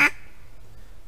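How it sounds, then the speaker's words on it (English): A single short, loud quack blown on a duck call for wildfowling, bright and nasal at the very start, then trailing into quiet background. "then you can get your simple quack sound"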